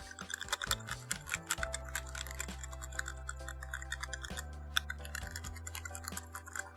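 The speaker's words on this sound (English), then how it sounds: "I don't know if the microphone is picking up the typing sound though" Typing on a Pabile P45 keyboard fitted with Akko Jelly White linear switches produces a quick, steady patter of close, crisp clacks, with light background music underneath.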